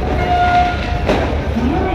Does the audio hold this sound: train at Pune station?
yes